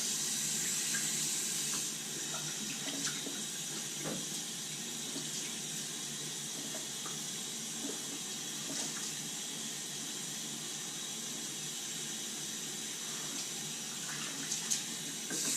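Hot water gushes steadily from a tap into a sink, a constant rushing hiss with small clinks and splashes, close by, with no voices.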